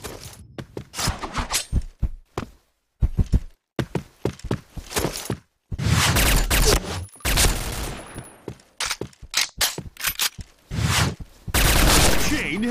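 Bursts of P90 gunfire in the shooter game Point Blank on the Bankhall map, rapid automatic volleys broken by short pauses, loud and up front, with game announcer voices between some bursts.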